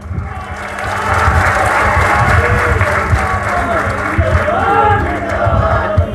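A crowd at a political rally in Bihar Sharif claps in loud, sustained applause, with cheers and shouts rising through the dense clapping.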